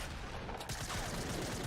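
Dense, continuous gunfire from a shotgun and an SMG in a video game, loud and close, with overlapping shots blurring into a steady fusillade.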